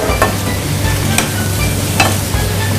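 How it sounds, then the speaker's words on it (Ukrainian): Spinach is stirred in a hot pan, giving close scraping strokes and bursts of wet sizzle over a steady low frying hiss, with a few sharper spatula hits. "Тепер перемішуємо наші шпинат."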